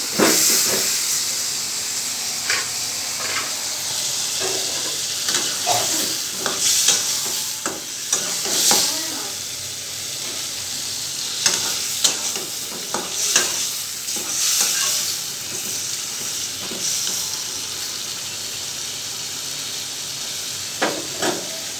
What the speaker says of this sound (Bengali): বেশি ভাজার দরকার নেই, এর মধ্যেই বেগুনটা দিয়ে দিই